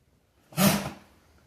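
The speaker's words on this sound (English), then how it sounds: "Are you like sneezing to get him away from you, or what's going on?" A single short, sharp sneeze-like burst from a pit bull rescue dog wearing a cone, close and fairly loud, fading quickly into quiet.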